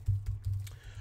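Fingers tap quickly on a computer keyboard, a close run of soft, muffled keystrokes in an uneven rhythm over a low hum.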